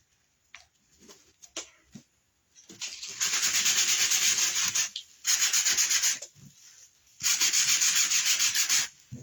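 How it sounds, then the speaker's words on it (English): Sandpaper rubbed along the long edges of a canvas dropcloth to fray it: a few light scrapes, then three long loud bursts of rapid close rasping separated by short pauses. "And we're going to sand both sides. Just the long edges."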